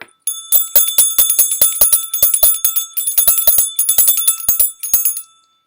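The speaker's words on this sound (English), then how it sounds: "the next thing we want to do is the bell noise" A small bright bell, like a bicycle bell, rung rapidly and repeatedly during a tarot ritual, crisp ringing strikes in quick rhythmic bursts for several seconds, close and loud with no voices.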